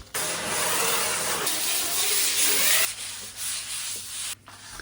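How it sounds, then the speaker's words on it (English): Hand sanding across a carbon fibre skin repair over EPS foam, a steady close-up abrasive rasp with long continuous strokes that briefly pause and resume, no talking. "A quick hand sand to remove the last few ridges"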